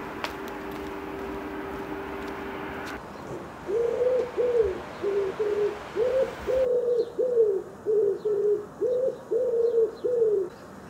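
A pigeon coos in a series of about a dozen low, rounded, rhythmic calls, close and clear, following a few seconds of quiet room noise.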